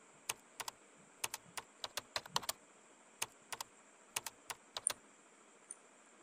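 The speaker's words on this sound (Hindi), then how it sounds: "यहाँ पर हम आधार कार्ड नंबर डालेंगे।" Keys tapped on a computer keyboard while entering an Aadhaar card number, a scattering of quick, crisp clicks in irregular bursts, close and quiet against a faint steady hum.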